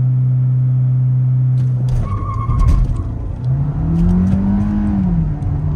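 Volkswagen Virtus GT launching in sport mode with traction control off at a drag race against a BMW X4, a steady engine drone breaking into a loud surging rev and tyre noise as the car pulls away, heard from inside.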